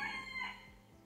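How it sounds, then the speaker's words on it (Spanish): Chickens let loose by neighbours, heard faintly in the distance as a short rooster crow with some clucking, and no voices. "eso como que soltaron todas las gallinas por aquí los vecinos"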